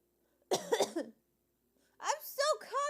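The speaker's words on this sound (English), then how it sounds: "I'm still coughing." Two short bursts of coughing from a nearby person, the first around half a second in and a second, longer fit about two seconds in, separated by near silence.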